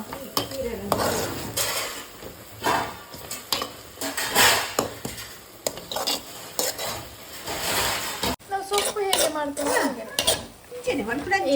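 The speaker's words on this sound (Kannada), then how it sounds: "ಮಿಕ್ಸ್ ಮಾಡ್ತಾ ಇದ್ದೇನೆ ಕಾಯಿ ತುರಿ ಹಾಕಿ ಸ್ವಲ್ಪ" A spoon stirs hibiscus flower palya with grated coconut in a pan, giving repeated close scraping and clinking against the metal with a faint sizzle underneath, in a steady rhythm with no talk.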